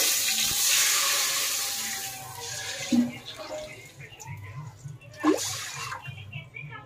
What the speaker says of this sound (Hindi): इतना पानी लेना है ताकि चावल बॉईल हो जाए इसमें।